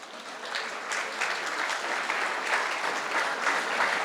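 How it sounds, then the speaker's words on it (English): An audience at a graduation ceremony applauding the graduate's parents, a dense, steady patter of many hands clapping, sustained and fairly loud throughout the short stretch. "Please give them a round of applause"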